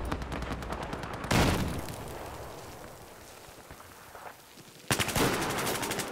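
Heavy automatic gunfire and air burst shots in the shooter game Battlefield 4, with a loud rapid burst, a rumbling blast that fades into a quieter lull, then another harsh volley near the end.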